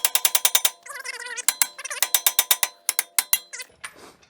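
A hammer strikes the strut of a 2002 Honda Civic Si EP3 to break a nut loose, giving a series of sharp, close metallic clanks in quick bursts with brief pauses between them.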